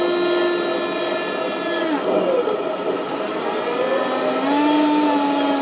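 The turret rotation motor of an RC T-72 tank gives a steady, close electric whine that glides up and down in pitch as it creeps slowly and then speeds up.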